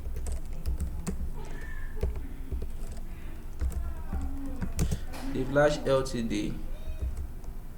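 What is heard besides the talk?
typing on a computer keyboard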